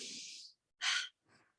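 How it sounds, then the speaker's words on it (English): A deep breath drawn in and slowly let out, close and soft: a long airy inhale, a short sharper breath, then a faint trailing exhale, with no talk. "Another deep breath."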